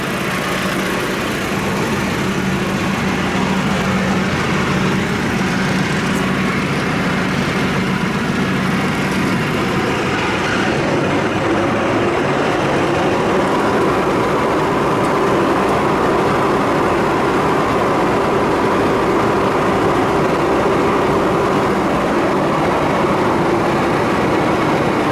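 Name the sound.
8ft rotary cutter bush hog running off tractor PTO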